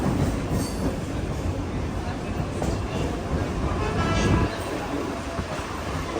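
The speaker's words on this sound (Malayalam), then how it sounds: "മഹാലക്ഷ്മി സ്റ്റേഷനിൽ നമ്മുടെ ട്രെയിൻ ഇതാ എത്തിയിരിക്കുകയാണ്." Mumbai Monorail train rolling into Mahalaxmi station, a steady loud rumble of the car with rattling and faint wheel squeal, recorded from on board; no talk.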